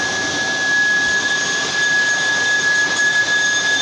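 Manual lathe cutting titanium in a machine shop, a steady broadband hiss of machining with a sustained high whine running throughout, loud and continuous with no talk.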